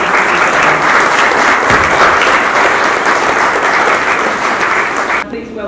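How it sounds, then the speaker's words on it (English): Loud, sustained applause and cheering from an audience at a college student awards ceremony, continuous and full before cutting off abruptly near the end. "And a big round of applause for Elliot Walker from our Level 3."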